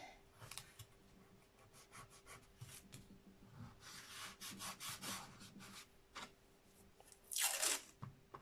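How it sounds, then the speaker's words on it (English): Masking tape is pulled and torn to fix a linocut print in place, with faint rubbing and crinkling through the quiet room and a sharp ripping tear near the end. "So I'm just going to get some masking tape. And tape it into place."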